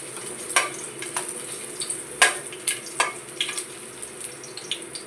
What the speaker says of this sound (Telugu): తెల్లుల్లిపాయలు వేద్దామండి.